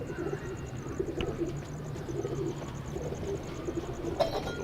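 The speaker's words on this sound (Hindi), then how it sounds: "ये हमारे 16 नंबर कबूतर है, 16 नंबर।" Racing pigeons coo in a soft, steady, repeated murmur that runs throughout, with a few brief chirps and clicks of a loft standing out in the foreground.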